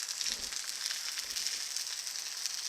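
An egg fries on a hot Blackstone griddle, a continuous bright crackling sizzle close by with small pops, steady in level and heard on its own.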